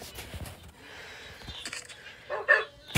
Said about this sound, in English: I finally found dogs.